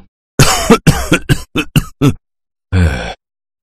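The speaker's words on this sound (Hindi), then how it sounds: "वो बहुत बीमार है और जोर जोर से खांस रहा है" An old, very sick man coughs hard and loudly in a rapid string of harsh bursts, pauses, then lets out one more strained cough.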